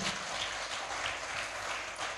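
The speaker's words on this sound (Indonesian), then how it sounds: "Tepuk tangannya sangat tanggung-tanggung." A church congregation gives a brief, half-hearted round of applause, a thin, uneven patter of clapping from a modest crowd filling the room without speech.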